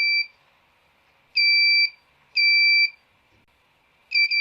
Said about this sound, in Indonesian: ketika LED 1 dan buzzer menyala cepat, itu tandanya ring jarak menjadi mepet.